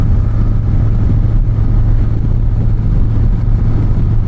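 A 2024 Harley-Davidson Low Rider ST cruises in sixth gear at about 70 mph and roughly 2,550 RPM, giving a steady, loud, low engine drone with constant rumble and wind noise throughout and no voices.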